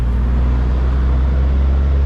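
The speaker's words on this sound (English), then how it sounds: "A lot of trucks going along this highway" Heavy trucks rolling along a highway in Bacalar, Mexico, give a steady, loud low rumble of road traffic that continues unbroken for the whole stretch, with no voices.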